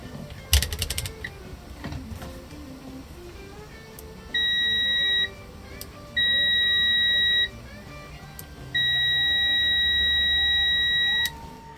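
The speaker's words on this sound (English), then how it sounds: "All you gotta do is turn the thing to the beeper, and as long as it's conductive, it'll beep" A multimeter's continuity beeper sounds three times while a guitar is being shielded with copper foil tape, steady high beeps of roughly one, one and a half, and three seconds, separated by clicks and handling noise.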